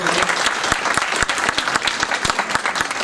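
An audience at a Hindu community Diwali celebration in Lahore claps loudly together, a dense burst of applause lasting a few seconds.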